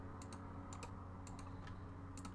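Computer keyboard keys clicking from typing during a Minecraft session, the mic sitting beside the keyboard; short bursts of clustered taps recur every half second or so, close and fairly soft over a steady background hum.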